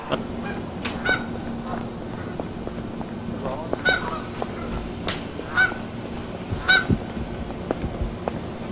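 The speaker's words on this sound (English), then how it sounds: "This must be one of the largest geese populations in North America." Geese in a large flock honk repeatedly and close by, with irregular overlapping calls breaking through a constant murmur of flock noise.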